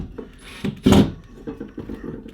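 Small self-tapping screws with a pilot tip being driven into a wall for a HomePod wall mount: a loud burst of grinding and rasping near the middle, set among quieter scraping and handling noises close by.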